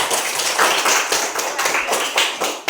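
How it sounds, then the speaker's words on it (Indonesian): A class of pupils clapping for a classmate who answered a question, a brief burst of dense, close applause with slightly rhythmic claps. "Tepuk tangan Aldi."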